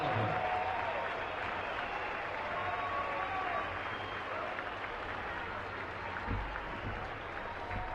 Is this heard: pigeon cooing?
no